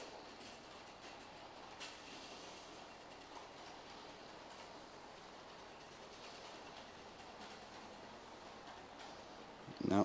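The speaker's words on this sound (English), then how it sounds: "No, it just derailed again, so I must have another derailed wagon." Model railway train rolling steadily along a layout track with a derailed wagon, a continuous soft rumbling and clatter at moderate distance, ending in a brief louder knock.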